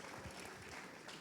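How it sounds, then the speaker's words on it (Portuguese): Church congregation applauding in praise during a service, a brief, fairly faint, dense patter of many hands clapping with no speech over it. "Aplauda o Senhor pela vida do pastor Jean."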